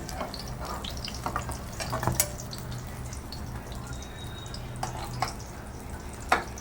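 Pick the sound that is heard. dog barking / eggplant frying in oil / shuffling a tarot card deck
eggplant frying in oil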